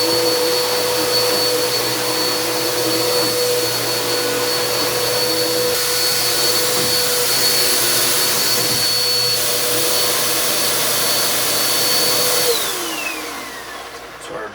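A Bissell Cleanview upright vacuum cleaner (model 1831) runs with a steady loud whine and rushing airflow for several seconds, then winds down as it is switched off.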